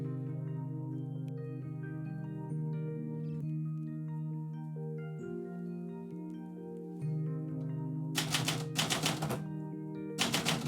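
Typewriter keys clack in quick irregular bursts as poetry is typed live, with bright sharp strikes and a few dense flurries near the end over a steady sustained musical drone.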